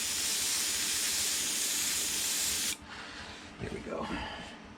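Aerosol spray paint hisses steadily and close during a touch-up near the bridge of a Polar Lights Discovery Enterprise scale model, cutting off after a few seconds into faint handling noises.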